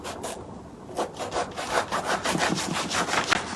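A knife saws through a ripe jackfruit and its seeds, a close, steady rasping cut with repeated scraping strokes over a few seconds.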